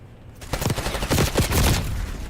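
Video game gunfight gunfire rattles out in rapid, overlapping bursts, loud and dense for about two seconds, with no voices over it.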